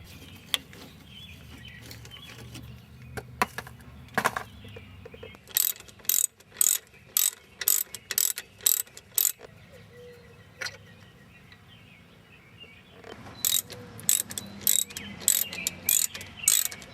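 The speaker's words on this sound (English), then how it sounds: "so I'm going to start with taking the calipers off, and there's a little bracket here that'll have to be removed" A ratchet wrench working the bolts of a car's brake caliper and bracket, with quick bursts of sharp clicking ratchet strokes in two runs and quieter handling noise between them.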